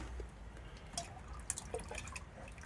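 Liquid plant feed poured into a container, heard as a quiet, close trickle with a few soft drips and splashes over a couple of seconds, without any talking.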